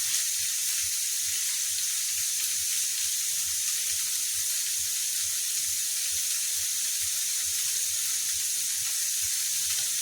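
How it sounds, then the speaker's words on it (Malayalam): Fried mackerel topped with masala sizzles steadily in a pan, an even, unbroken crackling hiss that holds at the same level from start to finish with no voices. "ഈ വറുത്തതിൻ്റെ മേലെ വെച്ചൊന്ന് പൊള്ളിച്ചെടുക്കണം."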